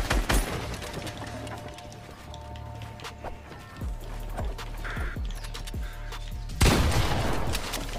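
Gunfire in the video game Fortnite, Creative mode: a series of sharp shots, some spaced and some in quick bursts, over a continuous game soundscape, ending in a louder rush of noise.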